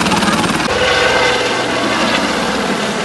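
A helicopter's engine and rotor roar loudly and steadily up close during a joyride for children at Hampi, a dense, continuous mechanical drone with a fast rotor pulse throughout.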